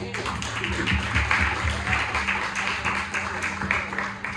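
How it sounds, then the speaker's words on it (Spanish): Church congregation applauding during a sermon, a sustained wash of many hands clapping at close range, steady and fairly loud throughout with some voices mixed in. "Vamos a darle un aplauso a él"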